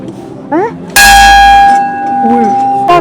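A small kitsch decorative bell at the Sovereign Hill winter Wonderlights event rings once with a bright, sustained metallic tone that slowly decays, following brief voices and ambient crowd noise.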